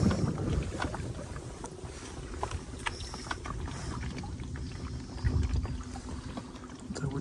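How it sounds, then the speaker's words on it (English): Wind blows across a river on the Norfolk Broads during pike fishing from a boat, a gusty rumbling buffet against the microphone with the boat's hull noise underneath, steady and close throughout. "This wind is a nightmare. It's pushing me into everything."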